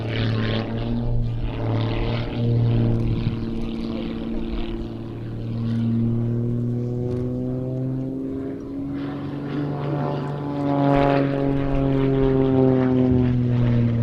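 A propeller aerobatic aircraft rolling one way then the other at an airshow, its engine drone rising and falling in pitch as it manoeuvres, loud and continuous throughout the whole stretch.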